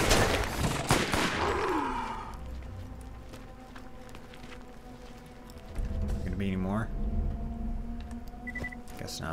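Gunfire in the Borderlands shooter game: a quick burst of distant shots near the start, then quieter game ambience with a tonal sweep and stray effects, a voice speaking over it.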